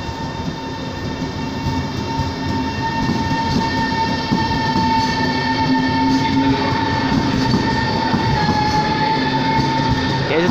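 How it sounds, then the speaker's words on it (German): An Italian high-speed train departs, giving a loud, sustained rumble with steady tonal whines and a rising rolling clatter that holds for about ten seconds, with no talk over it. "Dieser Zug fährt auch wieder weg."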